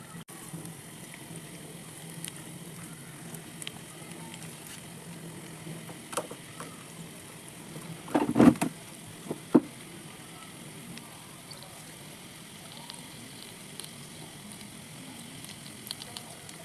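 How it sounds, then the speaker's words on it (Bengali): Coriander leaf pakoras fry in oil with a low, steady crackling hiss, interrupted by a brief cluster of utensil clatter midway. "ধনিয়া পাতার পকোড়াগুলো লাল লাল করে ভেজে নিয়েছি"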